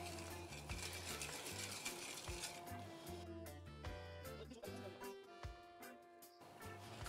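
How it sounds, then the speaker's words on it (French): A flan custard mixture is stirred in a bowl, a busy clinking and scraping that comes in repeated strokes, fairly faint, with some speech and kitchen sounds alongside. "Et maintenant je mélange"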